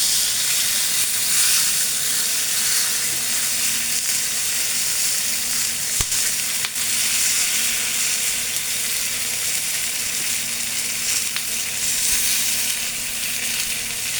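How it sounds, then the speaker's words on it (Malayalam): A leaf frying in hot oil in a pan gives a loud, continuous sizzle with a fine crackling texture. It holds steady for the whole stretch, with a couple of faint clicks and no voices. "നമുക്ക് ഈ ഇല ആദ്യം ഇങ്ങനെ ഇങ്ങോട്ട് ഈ എണ്ണയ്ക്കകത്ത് തന്നെ നമ്മൾ വെച്ചേക്കണം"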